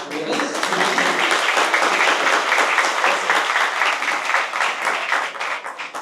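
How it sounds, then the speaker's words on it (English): Guests at a family anniversary celebration give a round of applause for the Chief Rabbi, a full crowd of dense clapping building quickly and sustaining, with a voice mixed in. "if we could first have a quick huge round of applause for our honored guest, the Chief Rabbi"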